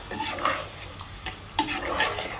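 Food is stirred in a very hot pot for a kabsa dish, giving close scraping strokes over a soft sizzle, with a couple of louder scrapes and no talking.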